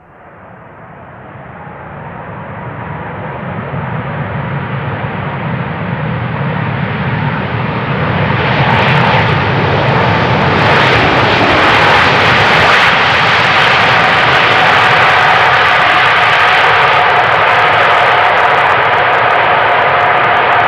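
A jet airliner roars past at Amsterdam Schiphol Airport, its engine rumble swelling from quiet to a loud, sustained broadband roar that holds steady to the end, with no voices.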